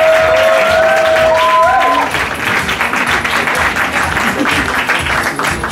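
A large crowd at a comedy semi-final keeps applauding an impressionist after his sketch, with steady massed clapping and a few cheers. A brief high tone sounds early before the applause settles slightly lower.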